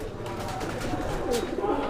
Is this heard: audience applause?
no